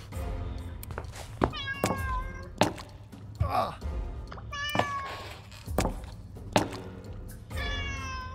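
A cat meows repeatedly, close and distinct, in the Second World War setting of the story adventure game Rosemary's Fate. Soft thuds and brief breathy sounds fall between the meows.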